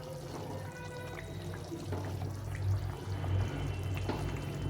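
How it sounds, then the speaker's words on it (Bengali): Fish pieces go into a simmering cauliflower fish curry in a home kitchen, soft bubbling and liquid splashes over a low steady hum, fairly faint and close. "ঝোলটা ফুটে গেছে। এখন মাছগুলো দিয়ে দেবো।"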